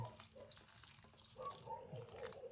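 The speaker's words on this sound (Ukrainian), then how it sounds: "вливаємо молочка" Milk being poured into pancake batter, a faint liquid trickle and soft dripping close by, quiet throughout.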